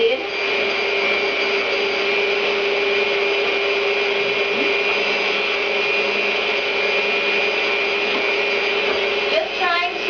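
An electric mixer on medium speed beats cake batter with a constant loud, even whine that holds steady the whole time.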